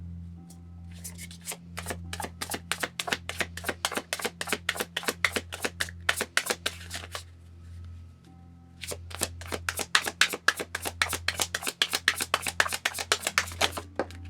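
Shaman's Dream Oracle cards being shuffled by hand, a long run of rapid crisp riffling clicks with a brief pause midway before a second burst, close and clear over a low steady hum.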